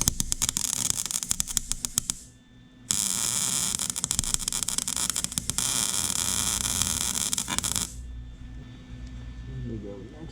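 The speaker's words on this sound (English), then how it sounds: "Filled that hole back in. I'm building up quite a bit. Weld the top here." MIG welding a repair on the shift lever of a Yamaha TT-R125, close crackling buzz of the arc in two long bursts with a short pause between, then quiet.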